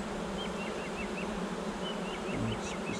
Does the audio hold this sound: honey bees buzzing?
yes